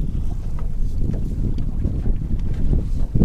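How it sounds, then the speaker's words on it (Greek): A fishing boat motors into the wind on open water, its steady low rumble constant throughout, with wind buffeting the microphone and faint splashing; no voices. "Ταυτόχρονα πηγαίνω τη βάρκα προς τον καιρό"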